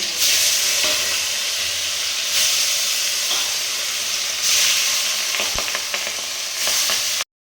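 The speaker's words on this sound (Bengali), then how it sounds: "তো এখন আমি তেলের মধ্যে কিন্তু মাছগুলো দেবো সব এক এক করে।" Fish fry in hot oil in a kadai, making a loud, continuous sizzle with bursts of spitting and crackle and a few sharp clatters from stirring, with no talking.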